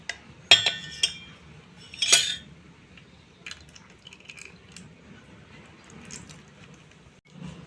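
A spoon stirs wheat flour batter with jaggery in a bowl: a few sharp clinks of metal against the bowl early on, then quieter, sparse taps and soft scraping, close by with no talking.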